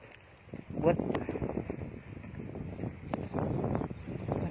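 Outdoor wind buffets the microphone in a low, rumbling roar that swells and eases in gusts, with faint voices in the background.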